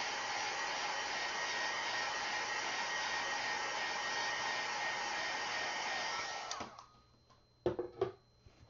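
A hair dryer blows steadily close by to dry paint on a canvas panel, running loud and constant for several seconds before switching off, followed by a few light handling knocks.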